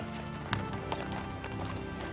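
A horse gallops in a comedy western film scene, rapid hoofbeats in a steady rhythm over background music, with a brief voice in the mix.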